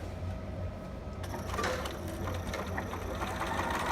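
A sewing machine runs a steady zigzag stitch along a quarter-inch seam allowance on a two-piece baby sitter outfit, a continuous close mechanical whir that grows busier and more rhythmic partway through, with no talking.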